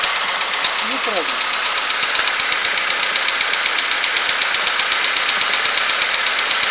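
A carbureted ZMZ 406 car engine idles with a steady, rapid metallic knock ticking evenly through its running drone, close and loud throughout.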